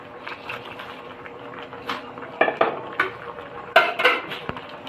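A metal spoon scrapes and clinks against a pan while shrimp and squash are stirred in coconut milk, with a series of irregular, close, fairly loud knocks and scrapes and no talk.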